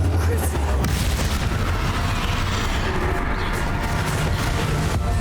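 Spell blasts from the Bombarda explosion in Hogwarts Legacy: a sustained, dense roar of booming impacts that stays loud throughout, with a voice faintly underneath.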